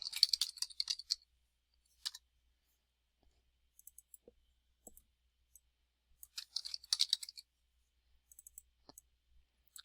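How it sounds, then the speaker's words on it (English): Bursts of light keyboard typing on a computer, close and fairly quiet, coming in two clusters with scattered single key clicks and pauses in between. "So let's go ahead and type in some answers."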